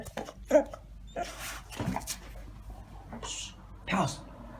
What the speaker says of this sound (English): Oh, it's a good dog.